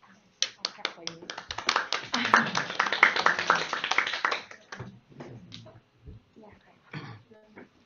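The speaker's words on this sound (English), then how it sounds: "I'll clap for you." At a young designer awards event, a small group claps for a presenter, building to a brief cluster of claps that then trails off into scattered taps, with speech mixed in.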